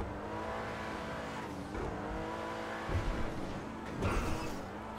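A turbocharged Hyundai Veloster accelerating in Grand Theft Auto V while weaving through highway traffic, a sustained engine drone rising in pitch with gear shifts and a brief surge near the end, no talk.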